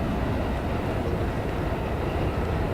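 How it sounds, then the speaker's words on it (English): A train passes by during an outdoor gathering in Brooklyn, a dense, steady rumble and roar that fills the whole moment without a break, loud and near, with no voices on top. "Wait for the train to pass."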